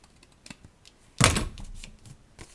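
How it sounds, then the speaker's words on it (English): Paper being trimmed for a handmade card: a single sharp cutting swipe near the middle, followed by a brief fading scrape, with only faint handling taps before and after. "We're going to trim that up."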